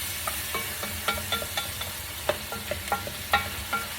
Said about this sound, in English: let's stir that around. That's going to be our base.